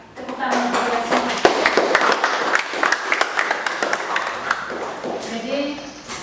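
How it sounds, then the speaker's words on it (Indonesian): Audience applause in an Indonesian classroom or school session, a dense wash of clapping for several seconds that swells and then thins out, with a voice speaking over it toward the end. "Tepuk tangan untuk semua"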